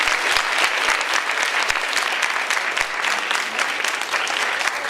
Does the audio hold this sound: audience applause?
yes